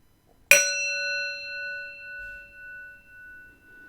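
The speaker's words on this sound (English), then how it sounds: "Let's hit the bell. Let's take 10 seconds to listen to the sound of it" A single struck bell rings once at the close of a live stream, a sharp clear strike followed by a long, slowly pulsing ring that fades over several seconds in near silence.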